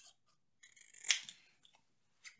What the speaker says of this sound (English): I can trim this up into a square.